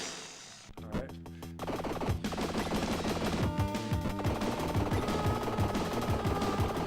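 Rapid game gunfire and explosion effects crackle in dense bursts over retro synth music while Mega Turrican is played on the Sega Genesis. The bursts are loud and continuous.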